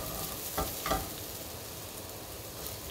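Tortilla pieces for chilaquiles frying in a pan with a little oil, a steady sizzle with two brief scraping stirs near the start, close and moderately quiet.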